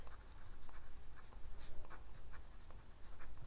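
A pen scratches steadily across paper as an essay is written by hand, a close, continuous soft scraping with small strokes and taps throughout.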